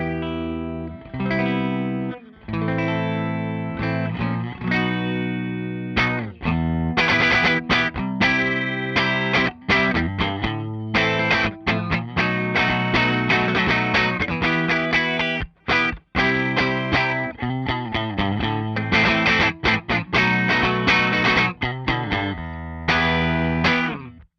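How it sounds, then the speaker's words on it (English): Electric guitar through a Blackstar Series One 104 6L6 valve amp on its Warm voice, playing full, sustained chords and riffs with effects, loud and continuous with brief gaps, no talking. "Now I'll switch from the bright to the Warm, which is apparently full-bodied Class AB"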